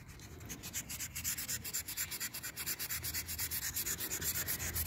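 A car wheel rim is sanded by hand in quick, rhythmic scraping strokes, a steady gritty rubbing that repeats close up with no voices.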